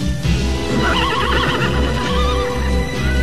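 A horse gives a loud, wavering neigh with hooves clip-clopping beneath, heard close and continuous over about three seconds.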